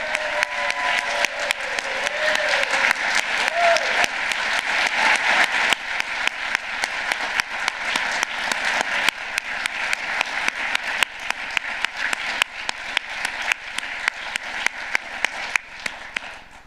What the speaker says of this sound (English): Can we all just start by giving Marty a huge round of applause